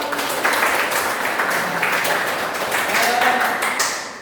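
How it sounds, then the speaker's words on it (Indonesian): A group of children in a classroom claps a rhythmic spirit clap, sharp bursts of hand claps repeating in a patterned beat, fairly close and loud, with some murmuring voices underneath. "Beri tepuk semangat."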